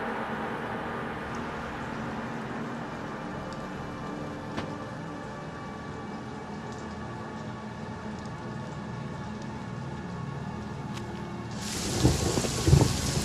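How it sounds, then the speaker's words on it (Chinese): Steady rain pours down with a low rumble of distant thunder throughout, and a louder burst of rain or wind swells near the end. "外面下雨了，你注意点啊"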